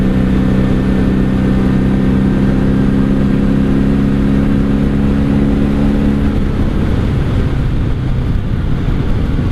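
A 1997 Honda Magna 750 V-four motorcycle drones loud and close while ridden on the road, its engine note holding steady under wind rush before easing off near the end.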